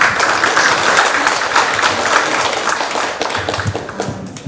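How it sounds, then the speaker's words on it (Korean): Applause from attendees at an expanded staff meeting, a continuous patter of many hands clapping at moderate loudness that fades slightly toward the end. "저도 적극 박수 부탁드립니다."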